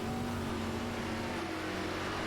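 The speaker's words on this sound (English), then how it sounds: "Listen to the motor for virtual engine on the 13." A race car engine revving in a Talladega round of a racing video game, a steady sustained droning whine, fairly loud and alone without talk.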